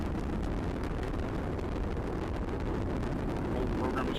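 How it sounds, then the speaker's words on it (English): An Atlas rocket carrying the OSIRIS-REx probe climbs through supersonic flight, heard as a distant, steady low roar and rumble that holds level throughout. "the Atlas rocket carrying OSIRIS-REx has gone supersonic"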